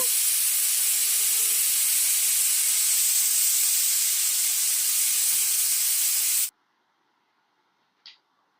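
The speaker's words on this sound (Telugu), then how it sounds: "ఇది మూత పెట్టేసి ఐదు విజిల్లు పెట్టుకుందాము" A pressure cooker of leafy greens and lentil dal vents steam in a loud, steady hiss for several seconds, then cuts off abruptly, leaving near silence broken by one short faint puff.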